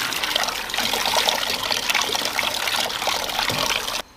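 Blanched duck meat being rinsed under running water in a kitchen, a steady close stream of splashing and trickling that continues without pause and cuts off abruptly near the end.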